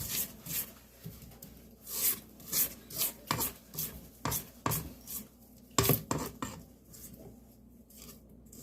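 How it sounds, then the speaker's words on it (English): A spatula scrapes down the sides of a mixing bowl of red velvet cake batter in a run of close, irregular rubbing strokes, some sharp and loud, some softer, with no talking. "got that bowl scraped down"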